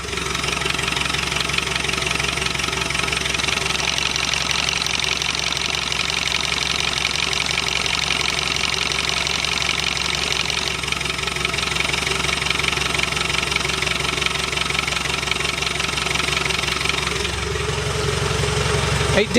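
A Land Rover Defender 110 Overlander diesel idles with the clutch pedal pressed and the exhaust removed, a loud, close, steady rumble with a mechanical rattle and clatter running throughout.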